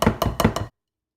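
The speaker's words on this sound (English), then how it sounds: "Sorry about the noise. I shouldn't have used the whisk." A whisk clanks against a bowl while mixing cornbread batter for a sausage, jalapeño and cheese skillet cornbread: four quick, close, sharp knocks in an even rhythm, then silence.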